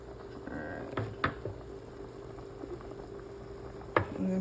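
Lamb and green lentil stew boiling in a single pot, a soft continuous bubbling simmer close by with a few brief clinks and taps over it.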